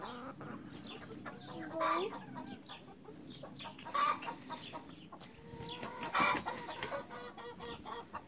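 Young organic hens, retired layers, cluck and squawk in a farm coop, with repeated soft clucks and a few louder calls rising over a steady, busy background of fowl.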